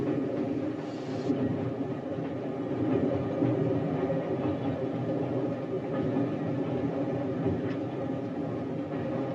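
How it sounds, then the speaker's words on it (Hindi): A steam train runs on rails in a 1959 film set in India, a dense continuous rumble and rattle of wheels and carriages, loud and steady throughout with no talk. "सोल्जर, तुम ट्रेन चलाओ।"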